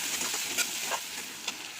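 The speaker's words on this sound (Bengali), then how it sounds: "একটু লাল লাল করে ভেজে নিচ্ছি।" Raw onion fries in oil with dried chilli, bay leaf and cumin until reddish for a Bengali fish-head moong dal, a soft steady sizzle with a few light stirring clicks, close and low.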